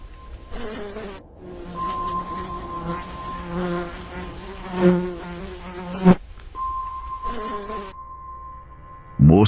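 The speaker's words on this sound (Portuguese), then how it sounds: "Moscas e outros insetos zumbiam ao seu redor" Flies and other insects buzzing in a dry forest, a thin droning hum rising and falling in several bursts with faint background noise between, no speech.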